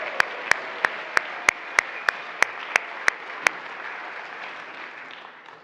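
A church congregation claps wildly for Star Wars Day at a Sunday service: dense, steady applause fills the room, with sharp individual claps popping out at a brisk, regular pace before the noise slowly tapers off.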